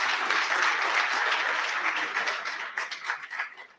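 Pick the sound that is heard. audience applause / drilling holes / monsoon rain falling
audience applause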